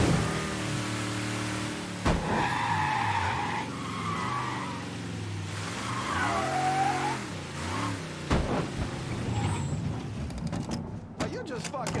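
Car driving and skidding in the video game Mafia III: an engine runs under long, wavering tire squeals and sliding skids, fairly loud and continuous, with a voice talking over parts of it.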